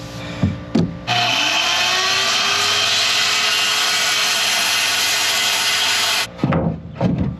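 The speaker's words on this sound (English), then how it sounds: "This job has made my favorite tool a chainsaw." A small chainsaw revs up and cuts steadily through wood for several seconds, loud and close, with brief idling before and after.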